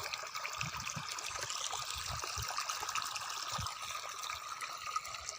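Irrigation water running through a village farm field, a faint, steady trickle and gurgle with soft low splashes, heard alone and at a distance without talk.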